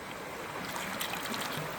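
Cold stream water at Rivendell splashing and trickling as a hand is dipped in, a close, continuous babbling wash of water with small splashes.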